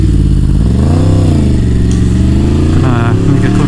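A Yamaha MT-10 1000cc motorcycle ridden and shifted with a quick shifter, its loud close engine note rising and dipping through gear changes while the rider talks over it.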